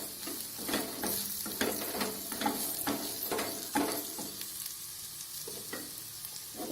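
Sweet potato curry with chilli powder, coriander powder and coconut sizzles in a pan while it is stirred, with steady frying hiss and rhythmic scraping strokes close by.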